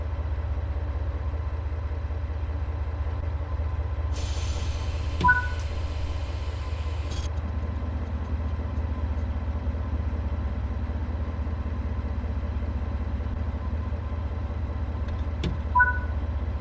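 A locomotive runs steadily along the Frankenbahn Stuttgart route in Train Sim World 6, with a constant low engine drone and rumble, a brief hiss in the middle and a couple of faint clicks.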